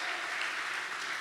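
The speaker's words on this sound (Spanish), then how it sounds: "Más fuerte las palmas, amados." Clapping from a church congregation during a lively service, a moderately quiet but dense and continuous patter of many hands with no speech over it.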